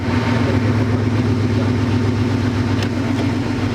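A Land Rover Defender engine idles with a steady low rumble, close and loud, holding an even tone throughout with only a faint rattle near the end.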